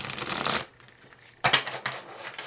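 Spirit animal oracle cards being shuffled in two close bursts, a brief quiet gap between them, with no talking.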